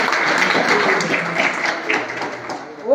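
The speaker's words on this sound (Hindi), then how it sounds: "आप सभी है ना ताली बजाओ, शानदार" An audience claps steadily and continuously for about three seconds, a dense even patter that swells slightly at the end.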